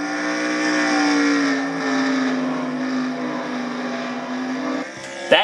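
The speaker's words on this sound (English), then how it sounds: "Listen to the motors on these cars." A video game race car engine at Road America drones at high pitch, holding a steady whine before a sudden shift and brief rev near the end.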